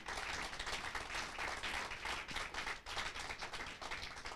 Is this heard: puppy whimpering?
no